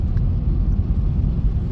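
Road traffic in Pune on a Sunday: a dense, continuous low rumble of vehicles close by, steady with no distinct horns or voices.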